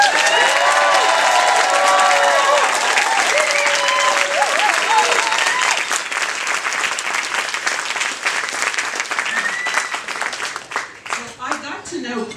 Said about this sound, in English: Please join me to cheer for Paul Cohen